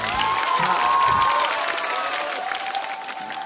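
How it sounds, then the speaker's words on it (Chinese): A talk show studio audience claps and cheers to welcome a comedian onto the stage, broad and continuous applause with a sustained musical tone sounding alongside it. "掌声欢迎王子涵"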